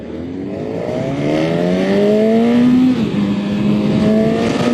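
2025 Honda CB1000 Hornet inline-four motorcycle accelerating hard in first gear in sport mode, engine pitch climbing steeply and loudly from close range, then a brief dip and a renewed rise.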